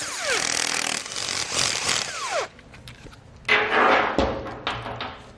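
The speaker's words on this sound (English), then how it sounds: "get these lug nuts removed" Lug nuts come off a pickup truck wheel with a 22mm socket on a power impact tool, which gives loud whirring bursts separated by brief pauses and then one more long burst, close up.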